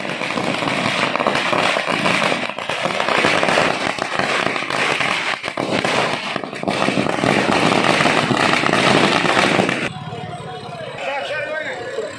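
Firecrackers burst in a dense, continuous crackling barrage at a BJP victory celebration in India, loud and close, tapering to a lighter crackle at the end.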